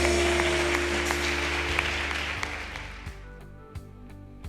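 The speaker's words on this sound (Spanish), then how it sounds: "Esas palmas al Rey de Reyes." A church congregation claps together in a sustained burst that thins and fades, leaving a few scattered claps over a low steady hum.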